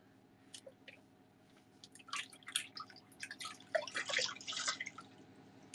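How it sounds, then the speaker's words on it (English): Water splashes and drips as a small tea cup is rinsed out in a kitchen. The sounds are quiet and irregular, with scattered wet bursts that grow busier toward the end. "Let me just rinse out this cup."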